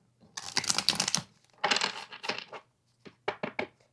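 Tarot cards being shuffled by hand, crisp riffling bursts in three quick runs separated by short pauses, close and clear with no talk over them.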